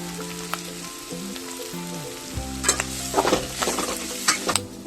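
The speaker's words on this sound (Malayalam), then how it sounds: "മഞ്ഞപ്പൊടി മുളക് പൊടി കുരുമുളക് പൊടി ഇനി ഇതൊന്ന് വഴറ്റാം" Turmeric, chili and black pepper powders sautéing in a pan for a Kerala bilimbi varattu, with a close, crackling sizzle and a spoon scraping through in brisk stirring strokes that grow busier toward the end.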